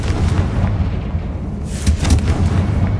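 The Confringo fire spell explodes in the video game Hogwarts Legacy, a loud, deep, rumbling blast that keeps roaring with heavy low booms and crackling bursts for its full length.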